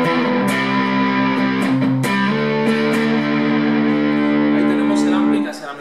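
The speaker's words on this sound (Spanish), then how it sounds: "Vamos a ir de una distorsión muy blandita y vamos a hacer lo mismo" A Squier Affinity FSR Stratocaster electric guitar played through its neck pickup into an amp with soft, mild distortion, sustained chords ringing loud and steady for several seconds with a couple of fresh strums before fading at the end.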